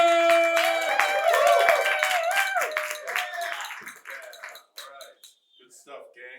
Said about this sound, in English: get the round of applause going for my man, Henry Sir!